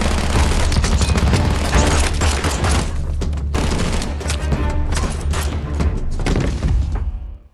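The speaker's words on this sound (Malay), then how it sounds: "Aksi baku tembak pun terjadi antara Victor dengan beberapa anak buah Javier" Heavy gunfire in a film shootout outside a hotel room, rapid continuous bursts and booming shots packed densely together, loud and close with no pause throughout.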